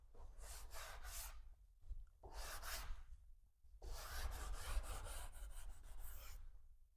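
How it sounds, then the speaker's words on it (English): A sanding block with a hard pad rubbed along edge banding at a 15-degree angle, three bursts of close, raspy back-and-forth strokes separated by short pauses. "And then we're going to come in with the sanding block."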